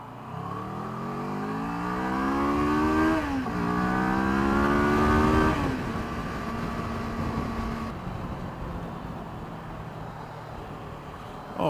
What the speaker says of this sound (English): Friday afternoon traffic.